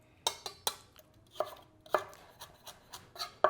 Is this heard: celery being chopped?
yes